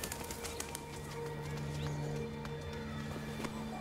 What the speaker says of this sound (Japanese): 大ハト。